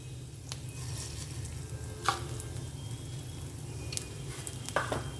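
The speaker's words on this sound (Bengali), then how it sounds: "দিয়ে দিলাম জিরে গোটা জিরে আর কি আর দিয়ে দেবো কিছুটা পরিমাণ সর্ষে কালো সর্ষে" Whole cumin and black mustard seeds sizzle in hot oil for dry okra, a soft continuous crackle with a few sharp pops and scraping clicks of a spoon against the pan.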